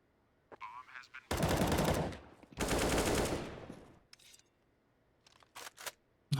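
Bursts of AWP and rifle gunfire in a Counter-Strike match on the Vertigo map, two long loud volleys in the middle with shorter sharp shots before and after, no talk over them.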